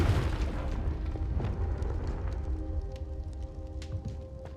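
Hogwarts Legacy duel with a Confringo fire spell, a deep, muffled booming blast that rolls and rumbles, then fades into a low crackling tail with scattered small pops.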